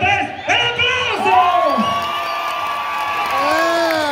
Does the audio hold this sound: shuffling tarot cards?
no